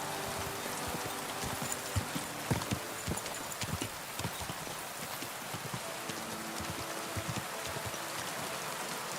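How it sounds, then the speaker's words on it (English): Steady rain falls in Kingdom Come, a medieval video game set in 1403 Bohemia, as an even hiss of droplets. Horse hooves clop through it at a moderate distance. "Can it at least stop raining, please?"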